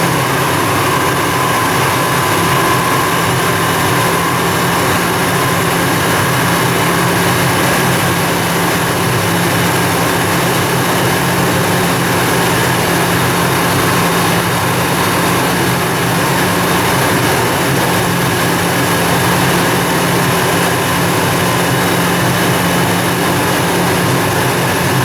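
A Chevy Colorado engine with a P0017 cam timing fault, held at about 2,000 RPM, gives a steady, loud, unbroken drone with a low hum running throughout and no talk over it.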